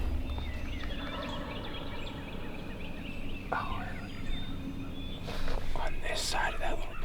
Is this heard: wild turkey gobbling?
yes